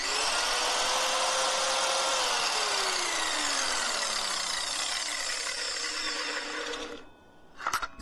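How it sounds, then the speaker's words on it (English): A Guild circular saw blade spins up loudly and steadily nearby with a high whine, its pitch sagging as it runs, then cuts off near the end, followed by a few brief clicks. "here's the blade spinning"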